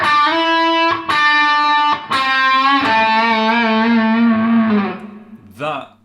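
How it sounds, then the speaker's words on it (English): Electric guitar lick played with distortion and effects, several sustained notes with a small quarter-tone bend on one note, loud and close, ending with a brief squeal. "add that little quarter note bend, or quarter tone bend on that note there, making it sound like this in full."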